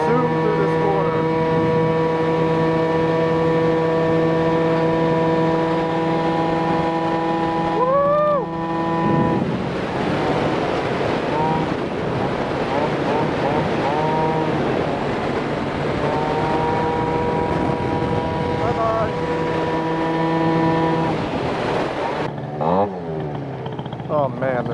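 A Yamaha Zuma Bugeye scooter engine revs loudly with a steady buzzing tone, rising and falling in pitch as it accelerates, with a brief gap partway through.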